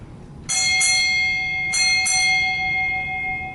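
A ship's bell rings four times in two quick pairs at an outdoor US Navy change of command ceremony at Naval Hospital Lemoore, each strike loud and metallic with a long sustained ring over a steady background murmur.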